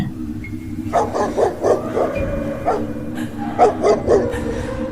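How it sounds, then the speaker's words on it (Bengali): Dog barking from bushes beside a river at night, a run of sharp barks and yips in two quick bursts, fairly close and loud. "হঠাৎ নদীর পাশের ঝোপ থেকে কুকুরের আওয়াজ আরো শক্ত করে ডাকতে শুরু করে"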